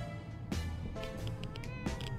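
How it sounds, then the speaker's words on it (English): A cat meows several times in quick succession, faint and thin, amid the background sounds of the survival game 60 Seconds: Reatomized, with no talk over it. "Oh, is that a kitty I hear?"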